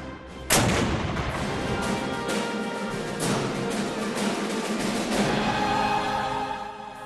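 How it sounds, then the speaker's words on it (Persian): A loud ceremonial cannon salute opens in Egypt, welcoming royal mummies to the National Museum of Egyptian Civilization, followed by further booming shots echoing at intervals, distant and reverberant. "با شلیک توپ از آنها استقبال کردند"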